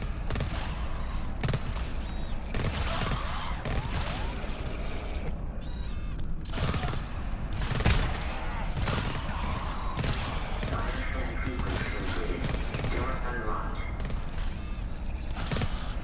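Sentry turrets firing in the co-op shooter GTFO, a continuous dense barrage of rapid gunfire and mechanical clatter throughout, loud and close, with player voices intermittently underneath.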